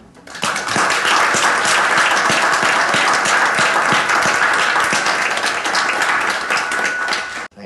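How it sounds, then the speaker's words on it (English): An audience at a university book launch breaks into sustained applause, many hands clapping steadily for several seconds before it stops abruptly. "So please let us extend a warm round of welcome and applause to Professor Ben Turok."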